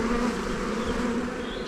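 A swarm of honeybees buzzes around a hive frame being moved into a new hive, heard as a steady, dense, close drone of many wings that stays even throughout, with no talking.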